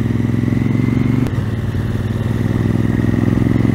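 A motorcycle engine runs steadily and loudly during a cornering technique demonstration, a close, continuous mid-pitched drone with a brief change in tone partway through.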